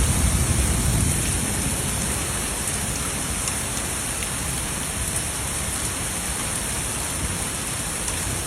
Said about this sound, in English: Roads are flooded as heavy rains fell across parts of northwest Florida on Sunday.